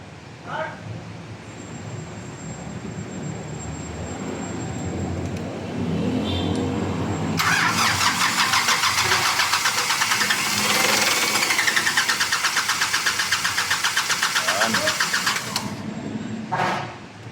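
A 2020 Nissan Terra diesel engine starts after an overhaul. People talk quietly at first, then the engine cranks with a fast pulsing rhythm, catches and runs loudly and roughly for several seconds before cutting off.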